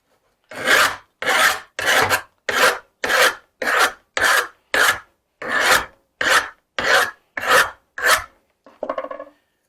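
A file rasps burrs off the edge of a chainsaw guide bar, about a dozen firm, evenly spaced strokes close up, followed by a brief lighter scrape at the end.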